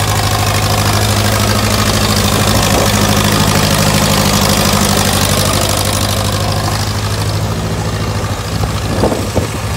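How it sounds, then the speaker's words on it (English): A gas-engine International 504 tractor with a wide front, three-point hitch and power steering runs steadily at close range, a loud, even idle that drops slightly near the end. "Pretty neat little International 504 gas, wide front, three-point hitch, power steering."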